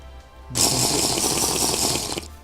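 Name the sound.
collecting water in TerraFirmaCraft video game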